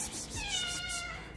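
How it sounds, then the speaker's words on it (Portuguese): A young female cat gives one drawn-out, close meow indoors in a house. It stands alone against faint background noise. "Vamos acabar esse vídeo mostrando essa gatinha linda."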